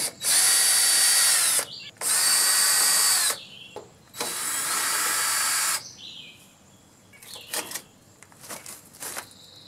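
Screws being backed out of an air conditioner condenser grill with a power drill: three loud, sustained whirring bursts of about a second and a half each, then lighter clatter and brief tool noises, up close.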